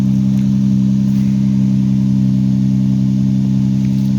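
A Toyota Solara with a new exhaust and flex pipes runs steadily nearby, a loud, smooth, constant low drone with no change in pitch and no talking.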